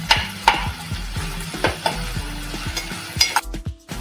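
Finely chopped onion sautés in a pan for a Marathi suran and prawn masala, a steady sizzle broken by repeated scraping stirs and light utensil knocks, close and fairly loud, ending in a brief quieter gap.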